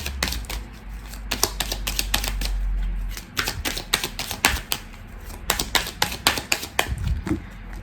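Oracle cards shuffled by hand, rapid clattering riffles and taps of stiff card stock in quick bursts with short pauses, close and fairly loud, following a low rumble at the start.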